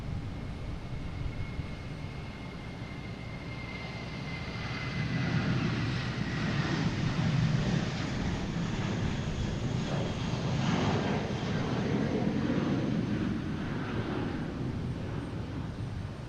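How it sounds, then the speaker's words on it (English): A JetBlue Airbus A320 in Vacations livery departs Boston Logan for Richmond, its steady jet roar swelling louder about a third of the way in and holding strong to the end, with no voices. "I got JetBlue heading to Richmond in A320."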